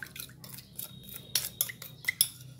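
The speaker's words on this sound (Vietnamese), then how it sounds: "Quậy cho tan hết đường ha." A spoon stirring sauce in a bowl to dissolve sugar for a vegetarian sesbania flower salad, giving soft scraping and several light clinks against the dish, close and quiet, with no talking.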